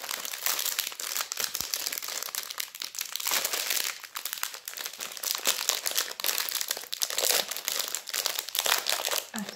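Crinkly plastic food packaging is pulled and torn open, with continuous dense crackling and rustling close up throughout, no talk over it.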